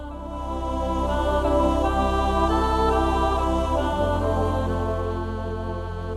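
A Lowrey touchscreen organ plays one of its presets: full, sustained chords swell and shift with a deep bass that changes pitch partway through. The tone is loud, rich and continuous, with no voices.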